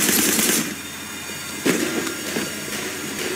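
Machine gun fire in the video game Sleeping Dogs, a short rattling burst at the start followed by quieter mechanical clatter and a single sharper report, heard alone without voices.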